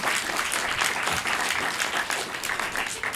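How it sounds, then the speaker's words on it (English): An audience applauds steadily, a dense even wash of clapping that holds at a constant level throughout without pause. "Yes, you can applaud"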